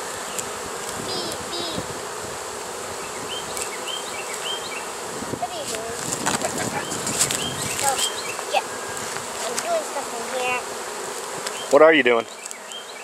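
Honeybees drone in a steady, close buzz while bees are being forced to abscond from a bee tree, with brief rustling and a short spoken question near the end.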